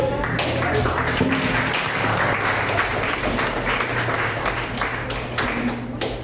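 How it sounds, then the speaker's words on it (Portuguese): Church congregation applauding during a deliverance service, steady hearty clapping from many hands filling the room for several seconds, with scattered voices mixed in underneath. "Uma salva de palmas para o Senhor."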